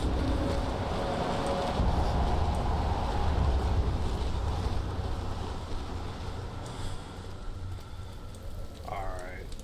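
Gusts of wind in the horror game Amnesia: The Dark Descent blow as a broad, rushing hiss that swells and then eases, with a faint creak near the end.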